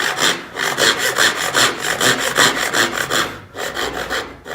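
A handsaw cuts wood for the tail board of a dovetail drawer, the piece clamped in place, giving a steady rhythmic rasp of close, loud strokes with a brief pause before the strokes resume.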